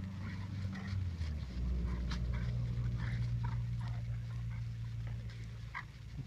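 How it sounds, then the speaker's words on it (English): An American Bulldog pants and whimpers close by, a steady low panting bed with scattered short whines and scuffling sounds running throughout, without anyone speaking. "but it's an American Bulldog."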